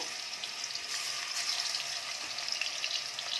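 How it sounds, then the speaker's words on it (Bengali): Marinated chicken frying in hot oil for chicken fried rice, a dense, close hiss and crackle that holds steady, then stops abruptly. "এবার আমি চিকেন যেটা ম্যারিনেট করে রেখেছিলাম সেটা এবার ভেজে নিচ্ছি চিকেন ফ্রাইড রাইসের জন্য"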